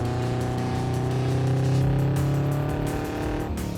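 A Subaru BRZ/Toyota 86 sports car engine drones steadily as it accelerates on a winding road, a continuous close rumble with rising harmonic tones.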